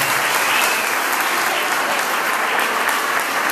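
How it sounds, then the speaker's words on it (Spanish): Steady, dense applause at a graduation ceremony fills the whole stretch, loud and continuous with no break, as the crowd welcomes a teenage graduate to the stage. "El aplauso."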